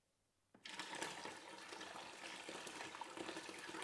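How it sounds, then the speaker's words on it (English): Hot liquid poured into a batch of homemade alcoholic orange ginger beer: after a quiet moment a steady, splashing gush starts abruptly and keeps running loudly to the end. "I'm gonna now add on, ungracefully yet again, the splattering hot liquid"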